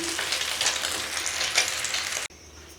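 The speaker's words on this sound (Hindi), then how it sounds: "इसी तरह थोड़े थोड़े करके हम सारे शामी कबाब फ्राई कर लेंगे।" Beef shami kababs fry in hot oil with a loud, close crackling sizzle and occasional pops and scraping touches, ending abruptly in near silence.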